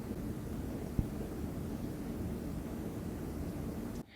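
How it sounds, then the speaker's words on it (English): Storm noise behind a voice-free stretch: a steady, loud broadband rumble of wind and rain with one brief knock near the start, continuing unbroken until it cuts off abruptly at the end. "You can hear the storm maybe in the background, which is pretty loud."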